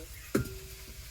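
Raw meat drops into a pan of reddened, frying onions for a home-cooked chicken biryani, setting off a single loud hiss that settles into a steady, moderate sizzle.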